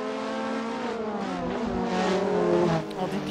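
Engine of an Alpine A110 GT4 race car in Assetto Corsa, a steady close revving drone with shifting pitch as it accelerates and changes gear, getting louder near the end, no voices.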